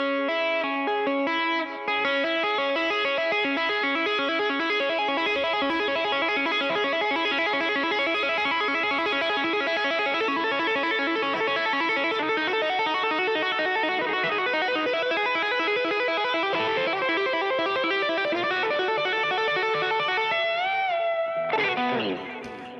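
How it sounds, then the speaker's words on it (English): Distorted electric guitar tapping with rapid hammer-ons and pull-offs, a dense, sustained run of fast legato notes with effects and chorus, loud and continuous, ending in a brief change of texture. "I'm going to do my tap, pull off, hammer,"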